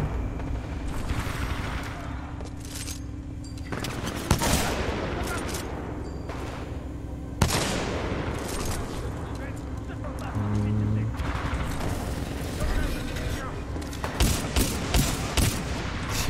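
Rapid automatic gunfire from a weapon in Titanfall 2 rattles in repeated bursts, some sharp loud reports standing out, mixed with game effects and background noise.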